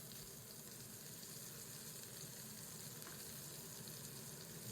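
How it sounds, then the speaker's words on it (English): Fillet steaks sear in a hot pan with a continuous dense sizzle, steady and even, faint in level with no voices. "So I want to get a good sear on them."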